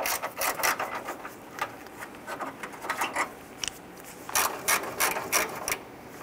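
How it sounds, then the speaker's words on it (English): An 8mm socket ratchet loosens the bolts on the AC condenser bracket of a 1994-2004 Ford Mustang, with quick bursts of close, crisp clicking separated by short pauses and no talking. "Use your 8mm socket. Loosen and remove the bolts carrying these."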